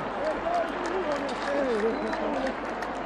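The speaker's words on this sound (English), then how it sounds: "A round of applause for our riders." Applause from an audience at a Botswana army show, honoring horse riders; a steady outdoor wash of clapping with a crowd murmur and a voice speaking or calling over it throughout.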